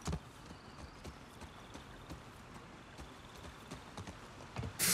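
Horse hooves clip-clop at a slow walk in The Last of Us Part II, soft, irregular thuds fairly quiet against a hushed outdoor game ambience, with a louder burst at the very end.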